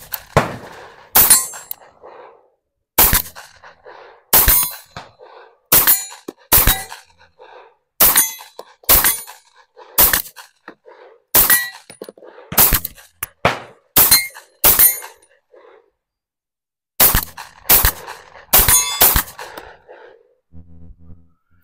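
Gunfire from a Tisas 1911 Carry B9R 9mm pistol loaded with Federal ammunition, sharp loud shots in quick strings with short pauses, about two dozen reports echoing outdoors, no talk.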